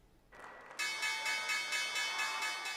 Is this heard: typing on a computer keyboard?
no